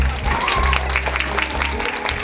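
Applause from parents at a Yamaha music school end-of-year concert, a moderate spread of clapping over a low, steady hum, with a few distinct claps rising above it.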